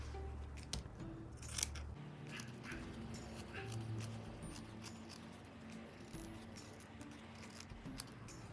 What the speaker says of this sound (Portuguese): Então, eu vou cortar.